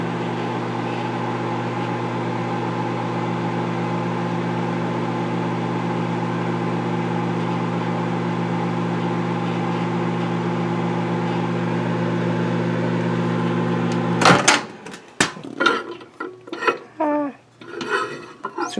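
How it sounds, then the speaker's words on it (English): A microwave oven hums steadily for about fourteen seconds while reheating an apple dish. Its door then clicks open, and clattering dish sounds and kitchen handling noises follow. "Put it back in the microwave now."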